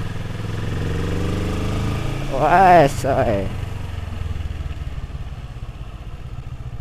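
Big motorcycle engine climbing uphill on a mountain road, a steady mid-pitched drone throughout with the rider briefly exclaiming over it midway.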